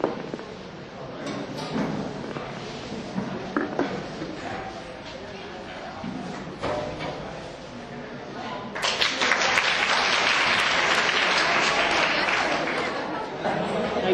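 Students at a college gathering applauding, a long round of clapping that swells louder toward the end, with talking over it.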